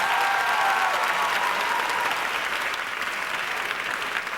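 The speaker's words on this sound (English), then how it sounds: "Ladies, y'all give yourself a round of applause." Studio audience of women applauding at a stand-up comedy show, a dense sustained wash of clapping that holds steady, with faint whoops or cheers early on.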